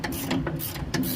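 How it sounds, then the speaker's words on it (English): A ratcheting wrench clicks while loosening a coil spring compressor during a 1965 Mustang suspension overhaul, with several quick close ratchet strokes in an uneven rhythm. "I'm going to use the ratcheting end"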